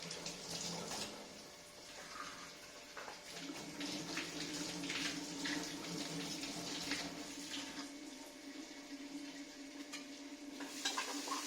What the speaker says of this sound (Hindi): अभी मेरे को हाथ धोने पड़ेंगे। हाथ धोने जरूरी है